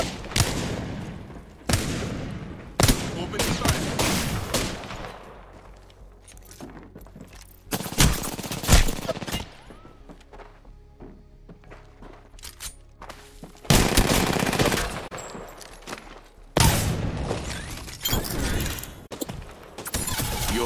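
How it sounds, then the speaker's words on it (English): Rapid bursts of video game gunfire in a 1v1 match, loud sharp volleys of automatic shots and blasts arriving in clusters with brief quieter gaps between them. "They're firing on me."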